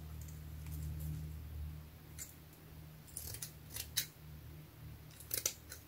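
Scissors snipping a piece of string saved from a potato sack, a few quick, close, crisp clicks near the end after some soft handling, no talking.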